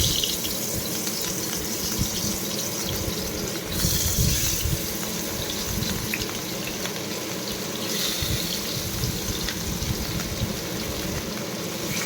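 Fish pieces sizzle in hot mustard oil in a pan, a loud, steady, close-up crackling hiss that runs unbroken throughout with no talking.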